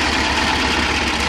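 A T-25 tractor engine runs in reverse gear with a worn reversing gearbox, giving a loud, close, steady low rumble with constant vibration and no voices.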